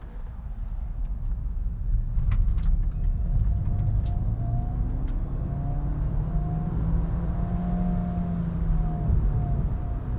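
Road and engine noise fill the cabin of a 2025 MG3 Hybrid+ as it accelerates from 0 to 60, with a rising whine climbing in pitch over the steady rumble; no talking.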